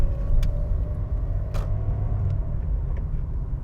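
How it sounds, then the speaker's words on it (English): Car pulling away in second gear through a junction past traffic lights, a steady low engine rumble and road noise holding close and even throughout, with no voices. "Into number 2, smoothly accelerating away"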